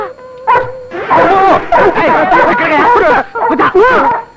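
A dog barks and yips repeatedly in quick bursts, loud and close, in a Telugu comedy scene, with voices talking briefly between barks.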